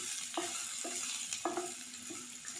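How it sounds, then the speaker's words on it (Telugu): Finely chopped onions fry in a pan with a steady, close sizzle. A stirring spoon scrapes through it in several short, regular strokes. "ఇప్పుడు మనం సన్నగా తరిగిన ఉల్లిపాయ ముక్కలు వేసుకుందాము. మంచిగా వేపుకుందాం ఫ్రెండ్స్."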